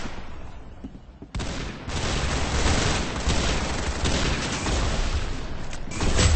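Rapid gunfire from the online shooter game Arsenal, a dense continuous burst of shots starting abruptly after a quieter moment and sustaining loudly to the end, with no talk.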